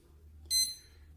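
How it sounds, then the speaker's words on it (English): A kitchen timer, set for 15 minutes while cooking stuffed bell peppers, gives one short, high electronic beep, near and clear against a quiet background hum. "I'm going to set the timer for 15 minutes"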